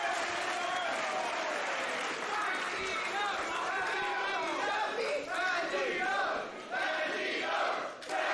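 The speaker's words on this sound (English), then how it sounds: "Listen to this crowd." A pro wrestling crowd in Melbourne roars and chants with rising cheers and shouted calls, loud and continuous throughout, with a commentator's voice talking over the din.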